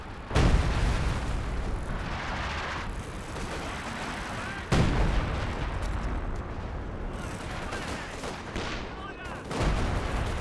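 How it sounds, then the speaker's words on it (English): A Sexton artillery barrage in Company of Heroes 2, with loud booming shell impacts at the start, midway and the end over sustained rumbling battle noise, while a commentator talks throughout. "Sexton going for a barrage now."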